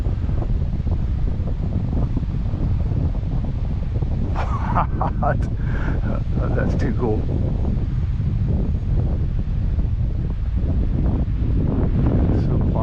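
Strong wind buffets the microphone throughout while an RC plane, an XK P-51 Mustang, is flown in a stiff headwind, a steady loud roar with brief spoken remarks in the middle.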